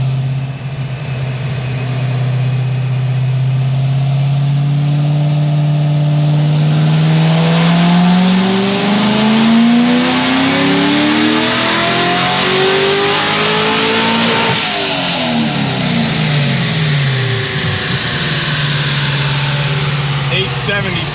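A 1000 hp Chevrolet Corvette C6 ZR1 with a stock cam, running a 54% ethanol blend on a cold pull, roars loud and close as its engine note climbs steadily under hard acceleration, then abruptly stutters against the rev limiter before settling.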